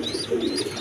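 Giribaz high-flying pigeons, a pair with young birds, coo softly in a low, continuous murmur that stays close and fairly steady, with faint higher chirps above.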